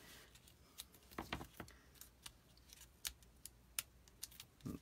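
Scissors snipping paper hinges for a small handmade photo album, a series of crisp close cuts spaced irregularly, fairly quiet with light handling noise between them.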